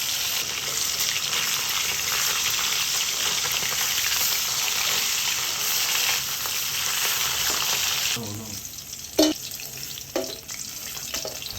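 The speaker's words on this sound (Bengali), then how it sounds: "মিডিয়াম আঁচে মাছগুলি ফ্রাই করে নিলাম" Pieces of rohu fish, marinated with salt and turmeric, fry in a pan over medium heat with a loud, steady sizzle for about eight seconds, then quieter oil crackles and a few clinks.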